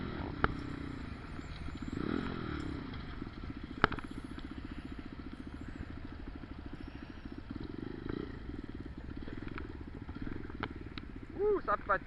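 Bullit Hero 125 motorcycle engine running with a slipping clutch at pull-away, a steady low putter with a faint rev rise, heard quietly under someone speaking French.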